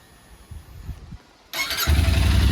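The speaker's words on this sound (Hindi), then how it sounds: "तो पहले हम स्टॉप एग्जॉस्ट का आवाज़ सुनते हैं। स्टार्ट करो।" A Royal Enfield GT 650 motorcycle with its stock exhaust cranks briefly and fires up, settling into a loud, close rumbling idle after a quiet moment.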